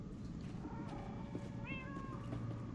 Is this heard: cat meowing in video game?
yes